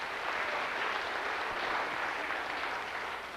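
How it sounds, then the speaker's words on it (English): Audience applause after a traditional music group plays at a memorial concert: steady, dense clapping from a crowd, close and sustained throughout. "give them another nice round of applause"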